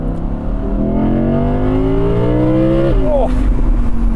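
Audi R8 Spyder engine revs up in a rising, rumbling sweep, then drops sharply as the throttle closes, heard loud and close from inside the car.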